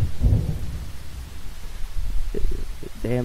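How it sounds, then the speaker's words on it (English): Thunder in the horror video game Boogeyman: a deep, loud rumble booms at the start, then fades into low, quieter grumbling over a few seconds. "Damn thunder."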